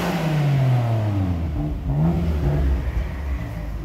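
A Nissan Fairlady Z sports car engine with an aftermarket exhaust revs up and settles, its fairly quiet exhaust note rising and falling in a steady, moderately loud drone close by, in Japan.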